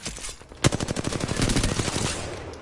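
Rapid video game gunfire rattles in a fast automatic burst after one sharp opening shot, steady and close for about two seconds.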